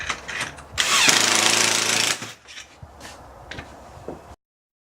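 A power drill bores a hole down through a deck board in one loud, steady burst lasting about a second, followed by a few short, fainter knocks and taps nearby.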